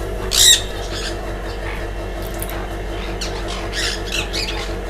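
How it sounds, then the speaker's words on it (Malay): Indian Ringneck parakeet at an animal garden, one loud sharp squawk near the start, then fainter chirps and calls over steady background noise. "Sangkonia dengan Indian Ringneck."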